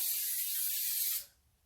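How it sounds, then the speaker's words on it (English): Coconut cooking spray hisses from an aerosol can onto a baking pan in a single steady burst of a little over a second that cuts off abruptly. "now we're going to spray the pan"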